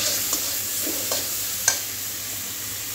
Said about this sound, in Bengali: দিয়ে দিব পরিমাণ মতো হলুদ গুঁড়ো, চেরা কাঁচা লঙ্কা।